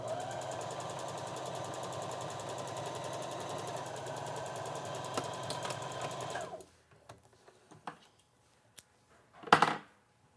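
A sewing machine runs steadily for several seconds while backstitching a shirt seam on a boatneck top, then stops, followed by a few faint handling clicks and a short sharp rustle near the end.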